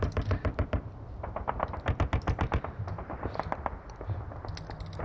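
Reconnaissance tanks firing in Panzer Campaigns during a Market Garden scenario: a rapid series of sharp, close, clipped shots in quick rhythmic bursts with brief gaps, with no voices over them.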